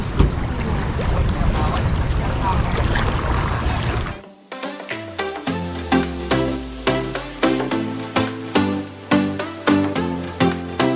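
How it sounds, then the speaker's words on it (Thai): A boat ride to Koh Phi off Phuket: about four seconds of loud, rushing wind and water noise, then the scene cuts to plucked music notes. "ขึ้นเรือกันค่ะ"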